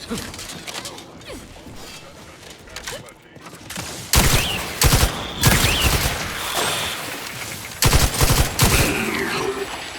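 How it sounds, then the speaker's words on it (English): Stun weapon gunfire in the video game Outer Worlds 2, a quiet stretch and then loud bursts of rapid shots in two clusters over game sounds, with a voice speaking faintly underneath. "Stun weapon ready."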